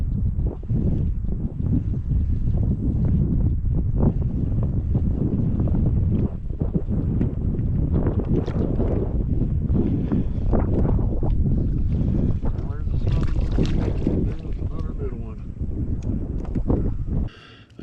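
Strong wind at a farm pond roars and buffets the microphone in a continuous, heavy rush with gusty swells and no clear pause.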